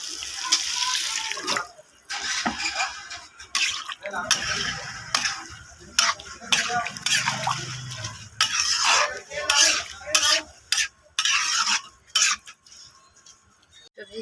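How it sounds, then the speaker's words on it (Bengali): Broth poured into a pot of potato and soybean curry, then stirred, with splashing, running liquid and scraping of a utensil against the pot in uneven bursts. "এখন আমি ঝোলটা দিয়ে দেব।"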